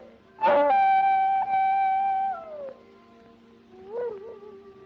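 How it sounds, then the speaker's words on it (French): Coyotes call at night in the black-and-white western Stagecoach, a long, wavering howl rising sharply then sliding down, followed by a softer, brief yelping call further off. "Ces appels de coyotes, moi, ça me porte sur les nerfs."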